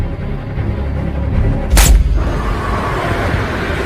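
A single sharp, loud sniper rifle shot in a film scene, a brief broadband blast over a steady background rumble, followed by a short fading tail.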